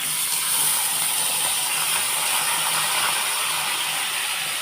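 Chana dal dropped into hot tempering oil crackles with a steady, dense sizzle and hiss, continuous and close for the whole stretch, with no voices.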